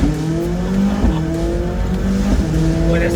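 A McLaren 675LT Spider launches hard from a standing start, its engine roaring loud and close with steady, layered tones that step through gear changes, alongside a faint hint of tire noise.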